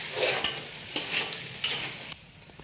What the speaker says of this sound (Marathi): ही जी पेस्ट आहे कांदा लसूण खोबरं त्याची सगळी पेस्ट आपल्याला त्याच्यामध्ये घालायची